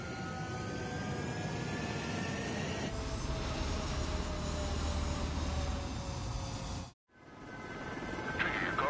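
Fighter jets take off in the video game Ace Combat 7, a steady roaring jet engine drone that grows stronger and whines higher, cuts to near silence at about seven seconds, then returns.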